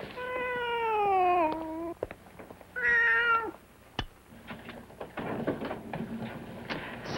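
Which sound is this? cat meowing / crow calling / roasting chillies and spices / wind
cat meowing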